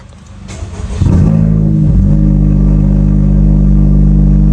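A Honda Civic Type R FL5 with a loud exhaust cranks and fires up, then settles into a deep, steady, booming idle that stays loud and close, with no talking.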